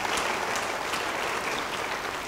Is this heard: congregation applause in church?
yes